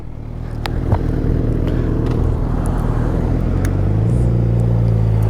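Motorcycles coast downhill in freewheel, giving a steady, close, low rumble with wind noise and a faint rising engine drone toward the end.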